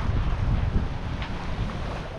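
A sailboat making about six knots through a light swell off Banyuls toward Cap Creus, with steady wind buffeting the microphone and rushing water along the hull, continuous and fairly loud.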